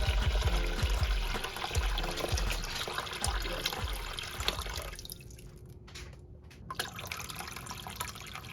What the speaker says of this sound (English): the next step is to fill the tank up with water and add nutrients.